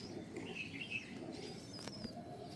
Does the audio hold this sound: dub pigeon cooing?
yes